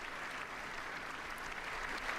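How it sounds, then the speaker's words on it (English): Sustained crowd applause at a State of the Union address, steady and dense clapping that fills the whole stretch without a break, with only a faint trace of voices underneath. "That deserves a round of applause."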